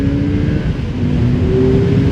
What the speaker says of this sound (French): Allez, on revoit un petit peu ce que donne le moteur.